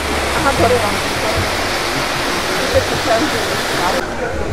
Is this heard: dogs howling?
no